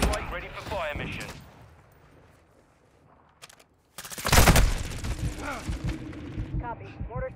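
Gunfire in the video game Call of Duty: Modern Warfare II: a heavy, loud burst of rapid shots after a quieter stretch, with radio-style voices talking over the battle before and after.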